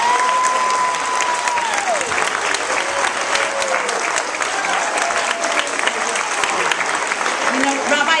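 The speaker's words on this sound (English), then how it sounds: "I think we owe second grade a huge round of applause again." A room full of people applauds steadily after a second-grade Chanukah musical, dense clapping throughout, with faint vocal tones and murmurs mixed in.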